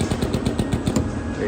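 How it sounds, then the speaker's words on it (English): Express 800 flow form rivet tool driving rivets during Tesla Model 3 rear-end collision repair: a loud, rapid hammering rattle of evenly spaced pneumatic pulses, close and continuous throughout. "flow form rivets, the Express 800. It's going to compress it in there."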